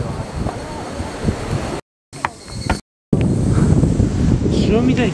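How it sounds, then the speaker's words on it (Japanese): Wind roars and Pacific waves surge below a seaside cliff park in Iwaki, Fukushima, loud and close, with two brief dropouts midway and a voice talking over the rush. "あ、波強いな結構。"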